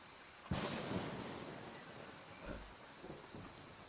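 Rain pours steadily in the Empyrion Galactic Survival game world while a sharp thunderclap breaks in early and rolls on, followed by a few softer rumbles under the constant downpour.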